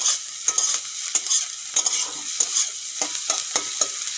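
Fried eggs and tomatoes stirred together in a frying pan while cooking egg chow mein, with repeated scraping and stirring strokes over a continuous soft sizzle, close and alone.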